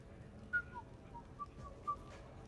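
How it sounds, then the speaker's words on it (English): A character whistles a light, wandering tune in Mass Effect 3's Citadel DLC, a few thin sustained notes over a steady low ambient hum of the game environment, fairly quiet and with no talking. "Are you whistling?"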